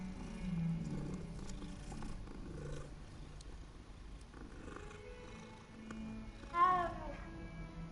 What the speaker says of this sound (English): I had to pat the cat.